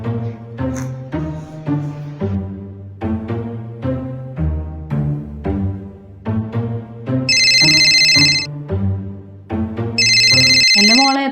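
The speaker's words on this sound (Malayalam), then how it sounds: "എത്ര നേരമായി ഫോൺ അടിക്കാൻ നോക്കിയിട്ട്? ആ ഫോൺ അങ്ങ് എടുക്ക്." A telephone ringtone sounds in two loud bursts late in the scene, cutting in over steady background music.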